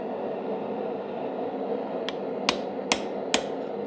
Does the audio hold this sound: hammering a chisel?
yes